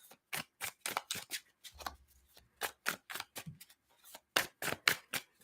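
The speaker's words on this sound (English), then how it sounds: "Good shuffle here." Tarot cards being shuffled in crisp, rapid bursts, a series of close, sharp riffling slaps with short pauses between them, no talking.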